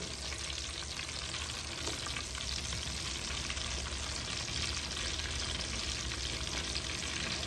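Chapli kababs fry in a wok on a low flame, giving a steady, dense hiss of oil that stays even and close throughout, with no talking.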